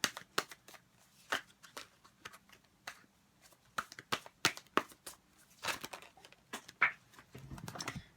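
Tarot cards shuffled by hand, giving close, crisp riffling clicks and snaps in irregular bursts, with a denser rustling flurry at the end, no talking.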